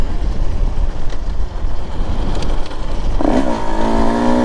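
A Husqvarna TE 150 TBI two-stroke motorcycle engine runs loud and close while riding, a rough steady drone with wind rumble, then the revs climb into a rising whine over the last second.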